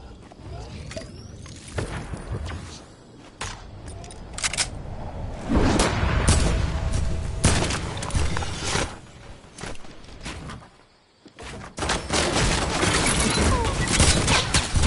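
Fortnite video game gunfire crackles in repeated bursts and single shots over a dense, busy mix, with a brief drop to near silence before the shooting resumes loudly.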